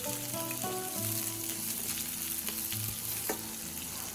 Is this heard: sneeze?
no